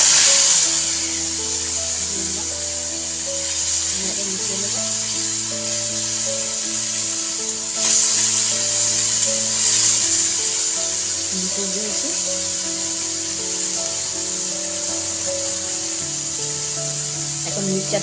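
Spice paste with panch phoron sizzling in a hot pan for a chana curry, a steady bright hiss running throughout beneath a person's talking.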